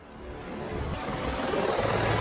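A helicopter leaves the scene in an action film, its broadband rotor and engine roar building steadily and growing louder over a couple of seconds.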